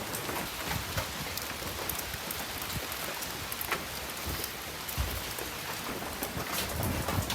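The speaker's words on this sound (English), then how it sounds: "You can hear the rain hitting outside." Steady rain patters on a hard surface outside an abandoned camp building, a dense continuous hiss with scattered louder drops, moderately loud and unbroken by voices.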